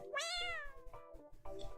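A cat in the Heart Cage game gives one clear, rising meow up close, followed by a couple of shorter, fainter mews and soft chirps.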